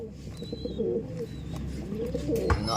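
Pet Victoria pigeon hen and other pigeons cooing, soft repeated low coos close by over a steady background murmur, with a thump near the end.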